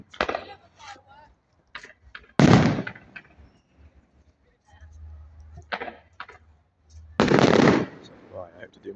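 Outdoor fireworks at a Nag's Head display burst with a few sharp, loud booms, one early and a longer heavy blast later, mixed with smaller crackles while people chat between the explosions.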